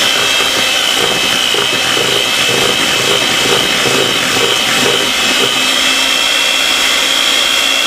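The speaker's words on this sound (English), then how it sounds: "I'm going to use it with the electric hand mixer." An electric hand mixer beats eggs and sugar for a homemade vanilla cake, a steady high-pitched motor whine with a faint rhythmic whirring of beaters in the bowl, loud and close throughout, no talking.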